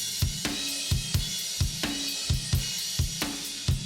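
An unmixed home-recorded drum kit plays a steady groove with regular kick and snare hits under a constant wash of cymbals, close and moderately loud, with no voices.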